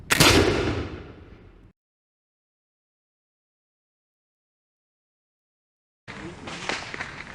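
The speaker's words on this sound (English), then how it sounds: "I'm going to fire the musket." A musket fires with a single sharp, loud bang at the start, then a decaying rumble, followed by silence and later faint outdoor shuffling noise.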